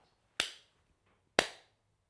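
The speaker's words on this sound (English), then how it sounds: "can I get just a sync clap for myself?" Two sharp hand claps about a second apart, the second one landing as a lone sync clap, crisp and close in a quiet room, each with a short fading tail.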